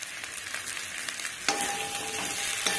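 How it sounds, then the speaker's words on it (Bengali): Okra tossed into onions already frying in a pan sizzles steadily and close by, the frying growing louder after a sharp burst midway as the okra goes in, with light stirring clatter and no talk. "পেঁয়াজটা ভাজা হয়ে গেছে, খুব বেশি ভাজার দরকার নেই, এই ঢেড়সটা যোগ করে দিলাম।"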